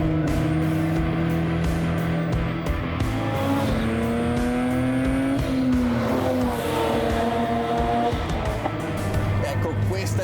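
Countach replica with a turbocharged V6 drives with a steady engine drone and shifting pitch as it accelerates, with loud exhaust pops over a continuous roar, and a voice talking throughout.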